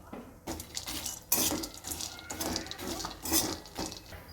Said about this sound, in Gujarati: એમાં આપણે બદામ શેકીશું। એમાં આપણે બદામ નાખીશું, એકાદ વાટકી જેટલી